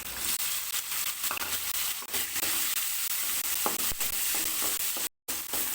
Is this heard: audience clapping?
no